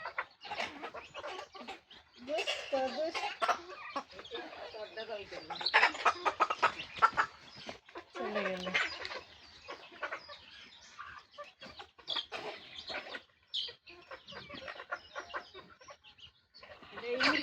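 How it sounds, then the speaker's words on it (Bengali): Flock of village chickens clucking while being fed in a rural yard, continuous overlapping clucks and squawks close by, with a person talking intermittently over them. "সবগুলো মুরগি খেতে দিচ্ছি"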